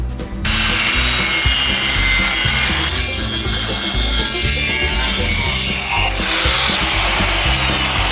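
Abrasive cutoff disc grinding through a steel lower shock bracket on a 1948 GMC pickup truck, a loud continuous shrieking cut that shifts pitch as the worn disc bites, close up with no talking.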